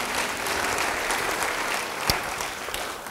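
Congregation clapping warmly during a church sermon, a sustained crowd applause at moderate level with one sharper louder clap standing out near the end and no voices.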